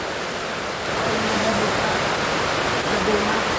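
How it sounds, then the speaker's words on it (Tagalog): Heavy rain pours down steadily during a typhoon, a dense, even roar close by that holds for the whole stretch with no breaks. "Malakas yung ulan, no?"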